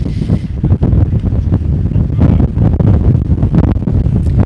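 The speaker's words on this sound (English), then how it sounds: "This wind is really messing us up here technologically." Strong wind gusts pound an outdoor microphone at a varsity baseball game, a continuous loud low rumble and buffeting that swells and surges throughout with no pause.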